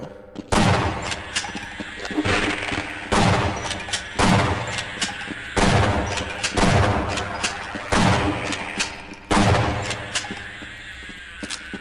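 Shotgun blasts in the video game Half-Life, about nine loud booming shots fired one by one at a slow, fairly regular pace, each with a short echoing tail.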